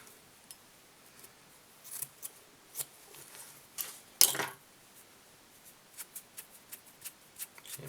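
Scissors snipping a bunch of fly-tying material on a tube fly, several sharp short cuts spaced irregularly, quiet and close with soft handling rustle between.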